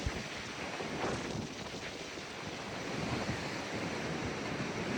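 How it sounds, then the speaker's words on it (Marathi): Large waterfall near Mahabaleshwar thundering in the distance, a dense, unbroken roar that holds steady throughout with no voices. "हे बघा आमच्या मागे वॉटरफॉल. खूप मोठा आहे तो."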